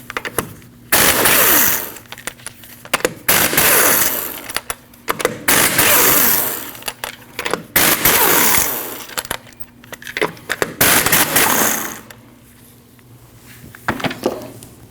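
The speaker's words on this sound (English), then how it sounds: "you need to remove your 5 lug nuts. These are 19mm nuts" An impact wrench loosens the 19mm lug nuts on a Subaru Forester wheel during front lower control arm replacement. There are several loud bursts of whirring, rattling hammering, each lasting a couple of seconds, with brief gaps between them.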